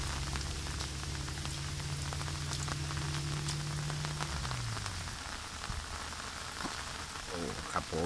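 Steady rain falls outdoors during a flood, a dense even patter on surfaces with a low engine-like hum fading out midway, no voices.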